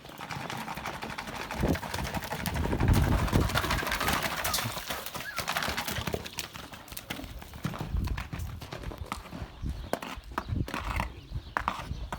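Horses at a horse farm near Ankara, with hooves clopping irregularly on the ground amid shuffling and movement, close by, with birds and pigeons faintly in the background.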